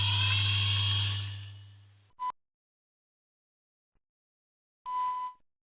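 A small high-pitched 1.6mm drill whirs boring holes in a Polistil VW Beetle model, winding down after a couple of seconds, then two short bursts of spinning follow with silence between.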